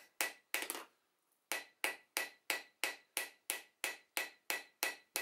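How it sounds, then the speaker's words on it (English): A hammer gives small gentle taps to a chainsaw bar resting on an anvil, a steady run of about a dozen sharp metallic knocks after two early hits and a short pause, close and alone. "So we'll take a hammer and we'll just put the bar on the anvil, and very, quite gentle,"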